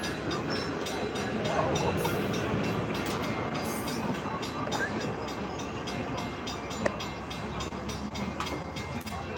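A train rolls past with a steady, loud rumble and rhythmic rattling of wagons, holding on throughout without talk.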